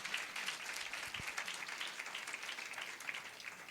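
A church congregation at a Sunday service claps for God in sustained, dense applause that holds steady throughout, with a faint low thump partway through.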